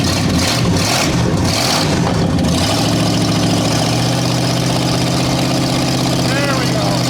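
A 1978 Ford LTD wagon engine idles steadily and loudly after a brief rev, running a little rich, with a low rumbling drone throughout and people talking over it.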